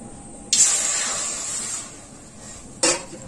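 A burst of hot water hits a hot wok for sugar syrup and sends up a loud sizzling hiss. The hiss fades over about a second, then a second short splash and sizzle follows.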